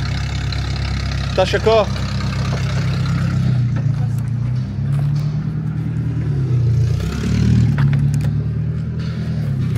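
A Ford wagon pulled from a scrap yard idles with a steady low engine hum, then revs and pulls away, people talking close by throughout.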